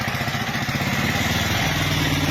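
Motorcycle engines running near an elephant attack, a loud, close, steady throbbing putter that keeps going unbroken.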